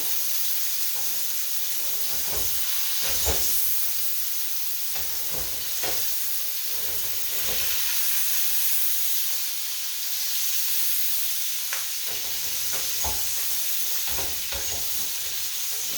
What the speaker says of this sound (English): once you put it down, you want to go for about 90 seconds to 2 minutes, and that's going to get a good sear on that first side